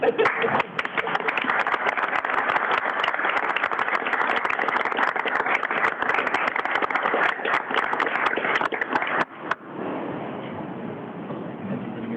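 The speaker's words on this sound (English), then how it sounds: "So now you can clap" Audience applause fills a city council meeting chamber, dense steady clapping from many people that cuts off abruptly near the end, leaving quieter room noise.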